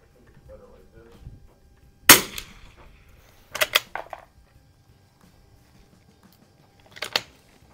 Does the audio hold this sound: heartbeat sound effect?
no